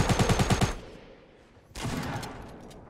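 Gunfire in a shooter video game, likely a shotgun: a rapid burst of about six loud, close shots in the first second, then a quieter pause and a sustained rumble of further firing and action.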